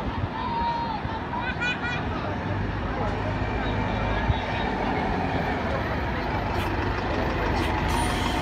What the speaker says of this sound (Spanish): Parece que camina el autobús y el coche.